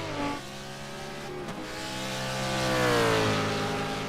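Several GT race cars cross the finish line at Circuit de Ledenon, engines droning loudly with harmonic whine that rises and swells toward the end as cars pass close by.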